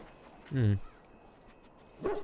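A dog in Dragon Age: Origins gives a single close, moderately loud bark, then a shorter second yelp after a pause, over quiet game ambience.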